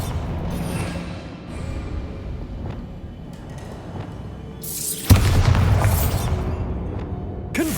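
Bombarda blasting spell explosion in Hogwarts Legacy, a sudden loud boom about two-thirds through, with rumbling game ambience and effects before and after.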